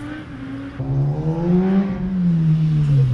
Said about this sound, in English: I heard a motorcycle aggressively exiting the freeway.